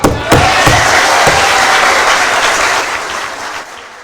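Loud, sustained applause from a large crowd for police officers in Manila, with a few sharp claps standing out early, tapering off near the end.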